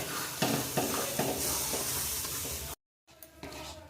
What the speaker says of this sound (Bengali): পুরো হালকা আঁচ কমাইয়ে বেশ কিছুক্ষণ এইভাবে শুধু নাড়তে হবে